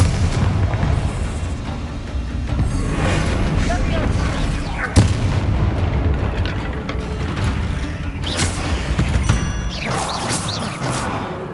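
Bombarda blast spell in Hogwarts Legacy: a dense, loud barrage of booming explosions and crackling bursts fills the whole stretch, with a sharp hit near the middle, and a voice speaks intermittently over the din.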